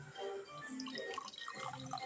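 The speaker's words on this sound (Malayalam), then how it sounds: "അപ്പോൾ ഒരു ഗ്ലാസ് എടുത്തിട്ടുണ്ടേ, നമ്മൾ വെള്ളം ഒഴിക്കാവേ." Water is poured into a drinking glass, a quiet trickling and dripping pour heard close up and alone, with no voices.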